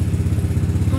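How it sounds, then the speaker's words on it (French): A dirt bike engine runs steadily at a rough idle on its first start, sitting on a table, with a rapid, even putter and rattling vibration throughout, loud and close. "Donc là, on a fait le premier démarrage."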